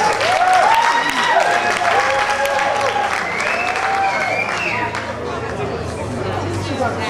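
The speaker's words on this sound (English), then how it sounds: "A round of applause, please." Sustained audience applause for a best traditional wear award winner at a Miss Ghana Ireland pageant in 2009, steady and full throughout, with crowd chatter and voices mixed in.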